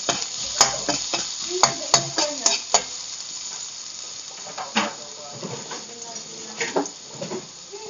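Garlic and onion sizzling in a hot pan for a Filipino-style macaroni dish, a steady close frying hiss broken by sharp clicks and scrapes of stirring.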